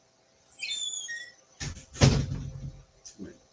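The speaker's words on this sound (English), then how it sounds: "I'm going to close my door real quick." Someone closes a room door: a brief hinge squeak, then a solid thump as it shuts, followed by a couple of soft clicks, close by in a quiet room.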